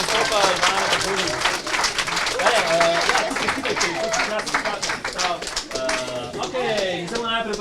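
Applause from an audience at an improv theatre youth group show, dense and continuous clapping with voices and music-like tones mixed in throughout.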